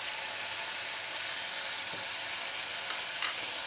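Spices such as ground cumin and coriander with chopped green chili fry and get sautéed for ghugni, a continuous hissing sizzle with faint occasional stirring scrapes, close and steady with no talk.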